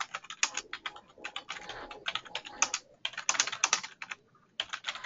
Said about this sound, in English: I got to type it in again.